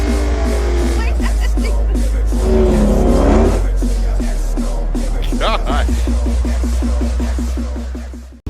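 A 1,000-horsepower Dodge Hellcat engine rumbles loud and close for the whole stretch, a heavy, steady idle with a rhythmic lope and a brief swell in the middle before it settles back down.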